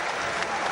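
A boxing crowd applauds in a dense, steady burst of clapping that fills the whole brief moment.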